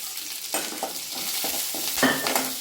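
Freshly washed curry leaves hit fried onions in hot oil for kottarakara puli, a close steady sizzle broken by scraping stirs and a sharper crackling burst near the end, with no voices.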